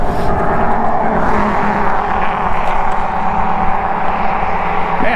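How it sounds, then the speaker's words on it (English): A loud truck rumbles past a roadside during a summer e-bike ride, its heavy engine noise steady and close for the whole stretch with no talk over it. "Man, that was a loud truck."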